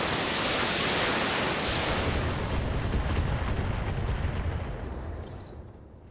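Mechs launching LRM missile salvos in BattleTech, a dense rushing roar of many rockets streaming out together, loud and sustained, then slowly fading away.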